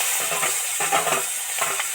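An egg dropped into hot oil in a pan, cooking for a fish curry, sizzles steadily and fairly loudly with crackling bursts rising and falling throughout.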